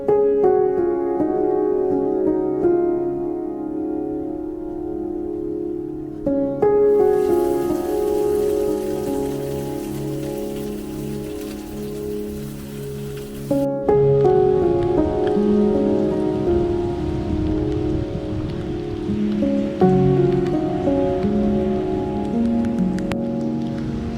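Steady rain falling on and around a van while stealth camping, a constant close patter with brief shifts in intensity and no talking.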